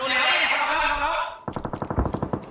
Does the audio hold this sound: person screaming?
no